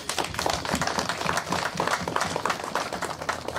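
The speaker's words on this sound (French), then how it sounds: "mais je voudrais qu'on les applaudisse aussi." Audience applause at a public address, a dense steady patter of many hands clapping close and fairly loud throughout, with no voices over it.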